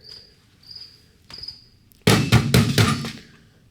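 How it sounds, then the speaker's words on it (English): A cricket chirps in a garage during work on a Toyota Supra engine, giving three thin, steady trills, and then a burst of loud metallic knocks and clatter drowns it out. "this cricket"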